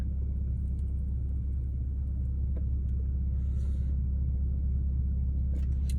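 Steady low engine rumble from inside a parked car, a constant close drone with a few faint clicks and rustles near the end, no talking.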